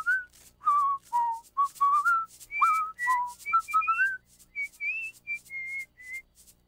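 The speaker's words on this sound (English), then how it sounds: "That's good whistling" A cartoon bear cub whistles a bright, wandering tune of short, clear, pitched phrases that rise and fall, heard alone and close with brief pauses between notes.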